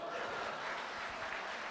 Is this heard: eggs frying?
no